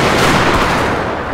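Massed Gatling guns blaze in Total War: Shogun 2, a loud continuous roar of rapid fire filling the whole moment with no break.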